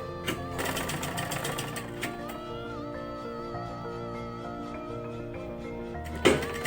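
A sewing machine stitches a salwar seam, a steady close mechanical whirring hum that runs almost unbroken, with a faint thump and a brief louder burst near the end.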